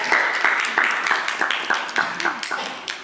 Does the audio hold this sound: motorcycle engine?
no